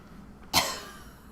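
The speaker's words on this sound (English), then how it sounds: "Then she got a little cough that wouldn't go away." A single short cough bursts out once, close and sharp, then fades, with a quiet room hum around it.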